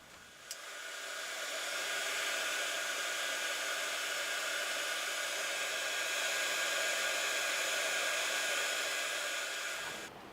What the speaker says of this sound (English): then with a heat gun you're going to just heat all this embossing